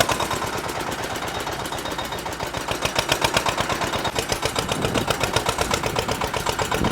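A mini tractor engine runs steadily with a rapid, even pulsing chug that swells slightly louder midway as gears are shifted through low ranges, close and continuous.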